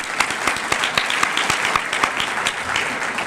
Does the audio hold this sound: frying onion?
no